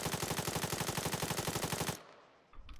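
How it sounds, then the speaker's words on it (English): Automatic rifle fire during a recoil test in Arma 3: a fast, even burst of about twenty close, loud shots lasting two seconds, then stopping abruptly and leaving faint room tone. "So if we do a recoil test"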